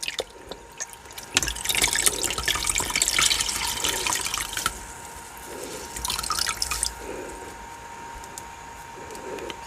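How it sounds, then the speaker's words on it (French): Water splashing and dripping as a towel is soaked for a facial skincare routine, with steady drips and a couple of louder pouring bursts, close and without talk. "Je vais les tremper dans l'eau."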